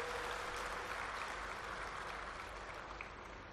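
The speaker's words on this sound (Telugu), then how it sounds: "మనమందరం రక్షణ శాఖ మంత్రి గారికి పెద్ద ఎత్తున చప్పట్ల ద్వారా వారికి స్వాగతం పలకాల్సిందిగా కోరుకుంటున్నా" Steady, dense applause from a large audience welcoming India's defence minister at a public event in Telangana, a continuous wash of many hands clapping that holds level and tapers slightly at the end.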